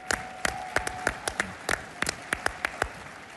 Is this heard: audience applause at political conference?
yes